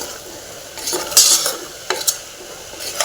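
A pan of fresh green pea palya is stirred after simmering covered, giving a few scraping, clattering strokes over a low, steady sizzle.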